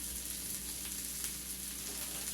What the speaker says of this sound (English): My sear's going to come pretty quick on there